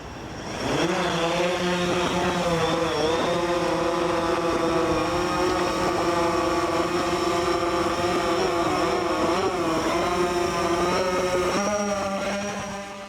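An Aeroo Pro fishing drone flies while carrying a payload, its propellers giving a steady, loud, close buzzing whine whose pitch rises and dips with gentle maneuvers, continuous for about twelve seconds before easing off.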